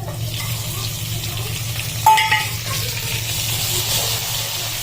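Tomatoes go into a pan of frying garlic and chili for a cauliflower-tomato curry, a steady low sizzle with a sharp clatter and spitting burst as they land.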